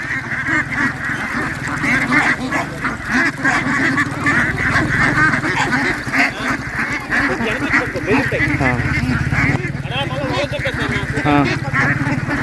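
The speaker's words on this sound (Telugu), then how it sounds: "చూడండి బాతులు అయితే వాటర్ తాగుతున్నాయి." A flock of ducks quacks and honks repeatedly nearby, overlapping calls forming a busy chorus, with a person talking over them.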